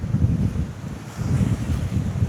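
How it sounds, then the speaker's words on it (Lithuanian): Strong wind buffets the microphone on a rocky seashore of Saaremaa, Estonia, with waves breaking nearby; a continuous, loud, gusting roar with no voices. "Vėjo šiandien tai belenkai daužo."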